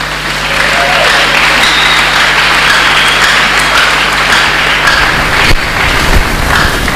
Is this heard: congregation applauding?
yes